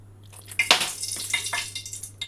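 Cornflour batter being whisked in a bowl for chilli paneer, with a spoon clattering and scraping against the bowl in a quick, close, wet rhythm, alone without talk.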